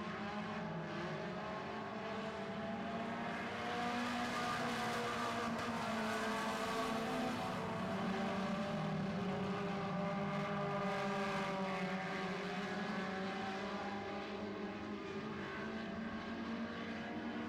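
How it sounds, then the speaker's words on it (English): Four-cylinder stock cars roar steadily through a heat race, a dense, continuous engine drone from the pack holding loud for the whole stretch with slight swells as cars pass. "Four laps down, 4 to go here in four-cylinder stock heat number 1."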